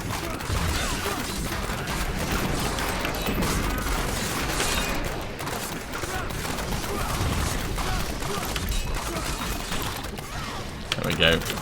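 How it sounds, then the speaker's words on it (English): Rapid, dense bursts of explosions and crashing impacts in Diablo 3 Reaper of Souls combat, a Demon Hunter in multiplayer, continuous and loud throughout with constant clatter and booms layered together. "Oh, watch out for the explosions."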